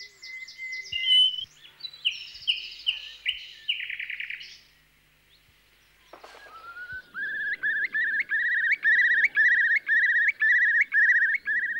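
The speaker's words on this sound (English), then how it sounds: "More melodious is the song of the nightingale." Nightingale song in breeding season: rich, varied phrases of clear whistles and rapid trills in the first half, a short pause, then a loud, rhythmic series of repeated notes, close and unaccompanied.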